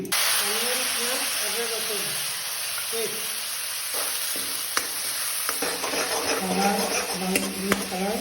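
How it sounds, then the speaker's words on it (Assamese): Potatoes fry in a pan with a steady close sizzle and hiss, broken by occasional stirring clinks and scrapes while someone talks over much of it. "এতিয়া আলুখিনি অকণমান ফ্ৰাই কৰিম দেই"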